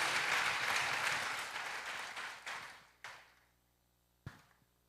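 A church congregation applauds for Jesus in a loud, dense burst that thins and fades over a few seconds, followed by a couple of isolated sharp taps near the end.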